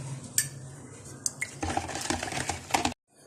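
A spoon stirs sugar and tukhmalanga seeds into a shakar cola drink, clinking sharply against the vessel in quick irregular taps over a soft liquid swirl, then stops abruptly.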